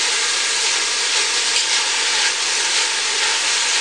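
Sliced onion and bell pepper sizzle in a hot pan as they cook down, a steady, loud, continuous hiss of frying with no pauses.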